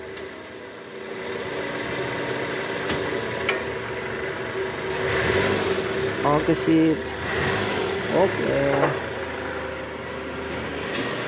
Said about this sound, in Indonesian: Nah ini setelah kita ganti balancer shaftnya, suara mesin udah nggak kasar lagi guys. Tuh udah halus.